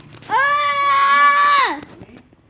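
A man gives one loud, sustained shout during a Roblox Build game session. It is strained and voiced, lasts about a second and a half, and is heard up close with no other sound around it.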